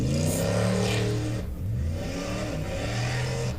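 A supercharged off-road competition car engine revs and idles roughly, its blower whine riding over a low, uneven engine drone that sputters and dips briefly in the middle, moderately loud and steady.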